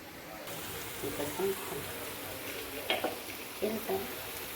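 Finely chopped ginger and garlic sauté in oil in a pan, a soft continuous sizzle close by while someone talks over it.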